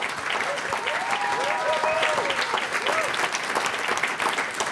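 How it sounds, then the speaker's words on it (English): An audience at a member night event applauds in a full, continuous burst, with voices and a few whoops mixed into the clapping before it begins to thin near the end. "Can you give them another round of applause, please?"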